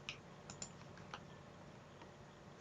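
Quiet, quick keyboard typing as text is entered into a form, a soft run of light clicks with a few sharper keystrokes, close and alone.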